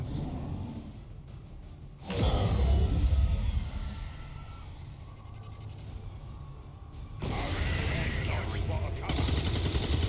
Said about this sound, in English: Why are they all shooting?